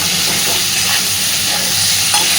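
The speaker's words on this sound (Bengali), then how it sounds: "দেখুন, আলু আর পটলটাকে আমি বেশ সুন্দর করে ভেজে নিয়েছি।" Potato and pointed gourd fry in a pan while being stirred, making a loud, continuous close-up sizzle with a steady crackling hiss throughout and no voices.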